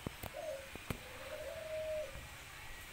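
Coo of a young Malaysian spotted dove just over five months old, a soft tonal phrase followed by a longer drawn-out note, alone over faint background noise with a few sharp clicks.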